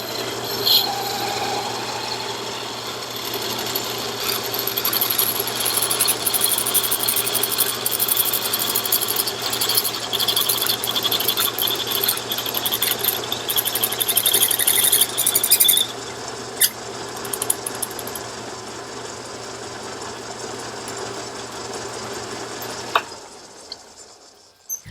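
A chucking reamer takes a drilled hole out to 3/8 inch with a steady, gritty rasping and scraping that holds for about twenty seconds, a faint high squeal on top and a low machine hum underneath, then stops.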